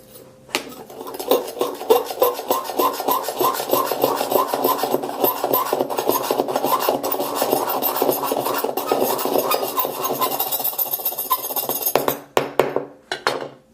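A Jet Black iPhone 7 back is scraped in harsh circular strokes, making a loud, dense, continuous rasping scratch for about twelve seconds before a few separate final scrapes.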